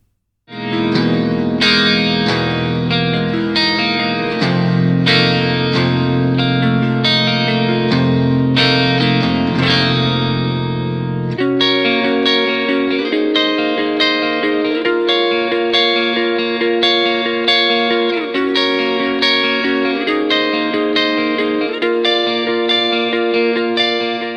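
An electric guitar played through the clean channel of an ENGL Powerball II amp, with ringing chords and single notes that sound lush and chorused. The playing is steady, close and loud, with no talking.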